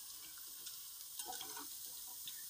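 Soft, steady sizzling of potato wafers frying in hot oil over low heat, quiet and continuous with a few faint crackles.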